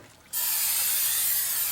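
Aerosol brake cleaner hisses in one loud, steady burst onto the rear brake parts of a 2005 Jeep Grand Cherokee, close up after a brief quiet moment.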